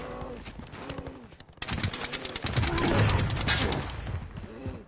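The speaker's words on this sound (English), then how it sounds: "I hear gunshots, so I'm heading there." Bursts of rapid gunfire crackle through a Call of Duty soundscape, rattling in quick volleys at mid distance, with faint voices before the shooting begins.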